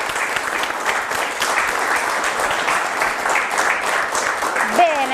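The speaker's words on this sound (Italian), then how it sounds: "Venite per l'applauso delle proloco." A studio audience applauds the Pro Loco teams of Cividale del Friuli and Zoppola on an Italian TV quiz show, with steady, dense clapping that keeps going for several seconds at moderate loudness.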